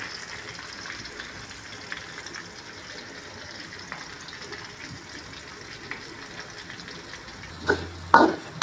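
Shallots and spices frying in a pan, a steady soft sizzle with occasional stirring, ending in a couple of louder clatters of utensil against the pan.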